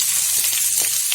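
Onions fry in hot oil with ginger, garlic, green chilli and curry leaves, a loud close continuous sizzle with faint crackles throughout.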